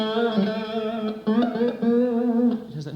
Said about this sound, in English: the pickup which is nearest to the fingerboard has a much more mellow sound because it's picking up less of the harmonics